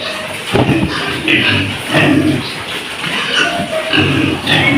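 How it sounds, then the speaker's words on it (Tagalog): Pigs grow rowdy at feeding time on a small farm, with a steady stream of close, loud grunts and squeals rising in repeated bursts, plus some shuffling. "Kaya magulo na yung mga baboy"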